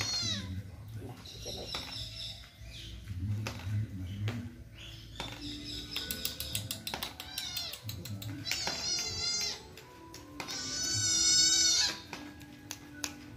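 A cat on its way to the vet meows repeatedly in drawn-out, rising and falling cries, some strained and wailing, mixed with people talking nearby.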